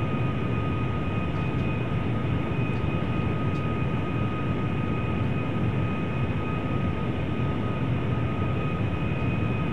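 A QualityWings 757-300 airliner in Flight Simulator on approach to Innsbruck, a steady, even cockpit engine drone with a faint high whine, continuous and unbroken with no talk.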